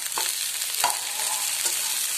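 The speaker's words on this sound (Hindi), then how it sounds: "अब हम इसमें टमाटर डाल देंगे" Tomatoes cook in a pan of sautéed masala for palak paneer, giving a loud, steady hiss of frying with three brief stirring scrapes, heard close and with no voices.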